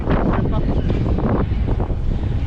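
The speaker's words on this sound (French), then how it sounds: "Regardez le vent." Strong wind at Mykonos buffets the microphone in a steady, loud roar with gusty swells throughout.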